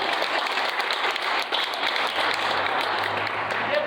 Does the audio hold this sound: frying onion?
no